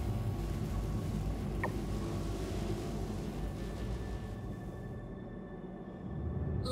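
Spaceship engines idle in the video game Star Citizen, giving a steady low broadband rumble with faint thin tones that holds throughout, dipping briefly near the end before swelling back.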